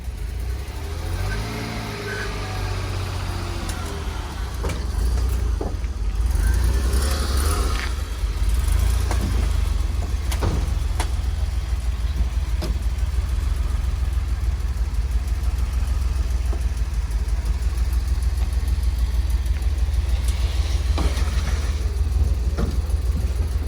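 A DeLorean car engine at a DeLorean owners' meet and inspection event, just started after coming off a trailer, idles with a steady low rumble and a few faint clicks and knocks on top.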